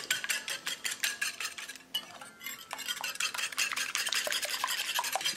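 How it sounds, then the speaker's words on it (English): Rapid rhythmic clinking of a whisk beating eggs in a bowl, close and fairly loud, with a brief pause midway before the brisk strokes resume. "get a whisk, and beat it well"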